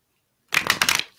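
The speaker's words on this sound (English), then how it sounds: "Maybe I should move this deck over so I can shuffle." Tarot cards shuffled by hand in a quick burst of dense papery riffling that starts abruptly, close and fairly loud, with no talking.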